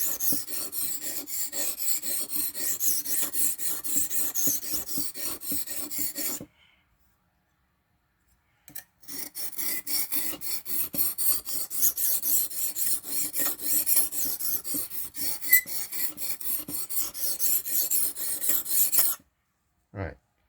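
A metal file rasping along the edge of a butter knife to smooth it, in steady close back-and-forth strokes, pausing briefly partway before the strokes resume.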